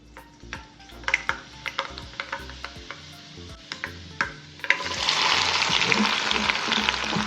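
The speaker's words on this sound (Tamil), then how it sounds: "எண்ணெய் சூடாயிடுச்சு. கொஞ்சமாக வெந்தயம் சேர்த்துக்கிறேன்." Fenugreek seeds hit hot oil in a kadai, bringing a steady close sizzle after a few sharp taps and clinks of a utensil against the pan.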